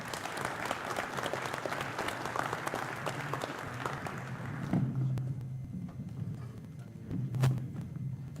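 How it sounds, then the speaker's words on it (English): Crowd at a career academy signing day applauding a group of construction students, steady dense clapping that thins out halfway through, with a few scattered claps and footsteps after. "Let's give our second construction group a round of applause."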